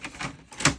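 An inkjet printer printing onto fabric gives a quick run of short mechanical whirring bursts, close and fairly loud, ending with a sharper clack.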